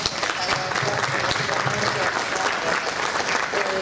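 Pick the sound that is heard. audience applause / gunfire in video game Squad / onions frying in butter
audience applause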